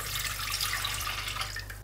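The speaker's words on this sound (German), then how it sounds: "Darauf gebe ich ein bisschen Wasser" Water pours steadily into a pot holding 75 grams of cashews, a close, continuous splashing hiss lasting about two seconds over a low kitchen hum.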